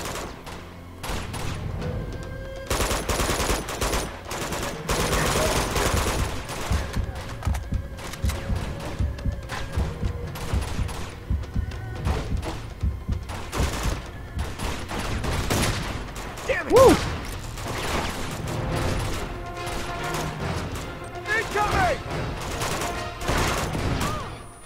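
Heavy shotgun guys fire in a firefight in Uncharted 2: Among Thieves, loud irregular blasts and bursts of gunfire in clusters with thuds between, mixed with other battle noise and no voices heard.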